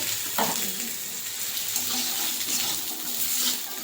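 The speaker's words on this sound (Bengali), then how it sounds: "একটু ভেজে নেবো এটা।" Cashews and poppy seeds fry in oil with ginger and tomato, a loud, dense, close sizzle running steadily throughout, with a few soft stirring knocks near the start, no voices.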